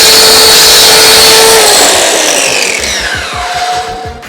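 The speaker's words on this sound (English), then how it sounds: "May as well do it with power tools." A loud power tool whines steadily at high speed, its pitch shifting as it cuts, then winding down toward the end.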